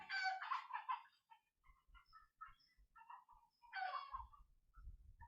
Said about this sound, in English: the chickens agree.